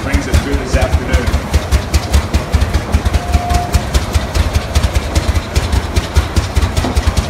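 A 1912 Rumley Oil Pull tractor engine at a parade idles with a slow, steady chuffing beat, each firing pulse distinct and loud, continuing evenly throughout.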